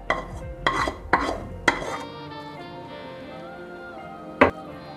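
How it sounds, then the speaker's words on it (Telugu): Raw mango being stirred into tempered rice for mango pulihora: a few quick spoon scrapes and clinks against the vessel, then a lone sharp tap, over soft background music. "ఇప్పుడు మ్యాంగోని దీంట్లోకి కలిపేద్దాం"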